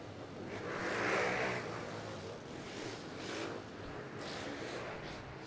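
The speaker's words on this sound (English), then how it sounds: "Race 5 underway here at Pitbike Stock 110. Got a full gate of Hondas" Stock Honda 110 pit bikes race around an indoor track, their small engines rising and fading in distant, muffled swells beneath the hall's echoing background.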